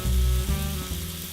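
Quartered mushrooms, cut fairly large, frying steadily in a hot pan, a close, continuous sizzle with no voices.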